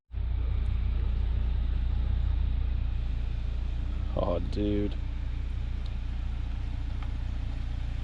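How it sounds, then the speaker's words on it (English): A car with a newly fitted LED underglow kit idles as a steady, loud low rumble throughout, with a short burst of engine sound partway through and someone talking briefly over it. "you ready for me to turn the car on?"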